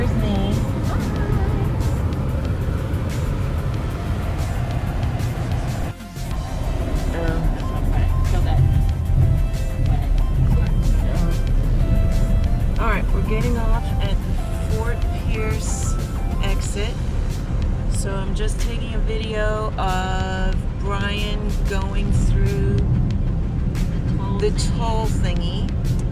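A car carries people along the road on an RV trip in Sebastian, Florida, its steady engine and road rumble running continuously beneath music and speech for the whole stretch.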